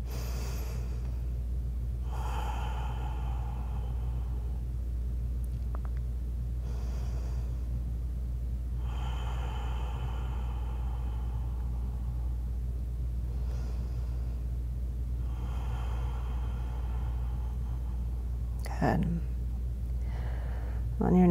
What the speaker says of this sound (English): We have a couple more breaths here.